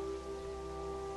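Steady rain in the video game Terraria, a soft continuous patter with faint tonal game music layered underneath, even and unbroken throughout.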